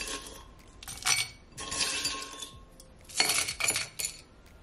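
Ice cubes drop and clink into a glass of pineapple sorrel drink in a few bright, close bursts of rattling and tinkling.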